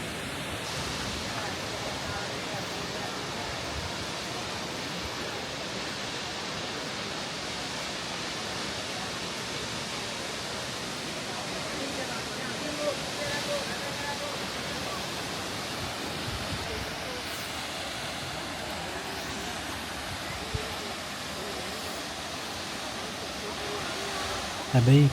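Dunhinda waterfall in Sri Lanka gives off a steady, even hiss of falling water, heard from a viewing point, moderately faint and unbroken throughout with no clear talk over it.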